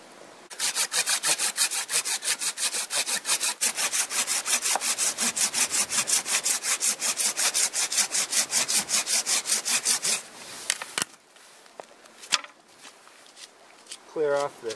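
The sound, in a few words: sawing a Chinese privet stump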